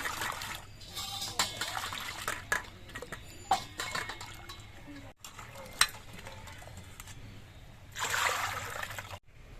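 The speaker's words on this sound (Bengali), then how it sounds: "এবার আলু আর সজনের ডাটা এগুলো আমি সব ধুয়ে নিচ্ছি" Cut potatoes and drumstick pieces are rinsed by hand in a bowl of water, giving faint splashing, trickling and knocking sounds with soft clinks, close and uneven over several seconds, with a louder slosh near the end.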